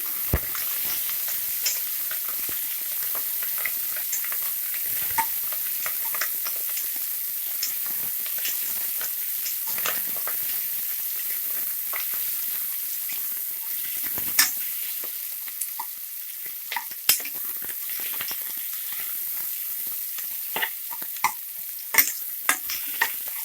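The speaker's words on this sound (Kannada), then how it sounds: "ಈರುಳ್ಳಿ ಒಂದು 3 ನಿಮಿಷ ಫ್ರೈ ಆಗಲಿ ಎಣ್ಣೆಯಲ್ಲಿ ಚೆನ್ನಾಗಿ" Onions with curry leaves frying in oil for vangibath sambar: a soft, steady sizzle held for a long stretch, dotted with small crackles and occasional stirring clicks, close and without talk.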